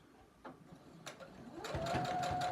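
A sewing machine stitches fabric for a beach tote. It starts with a few short bursts, then settles into a steady, fairly close mechanical whir for the second half.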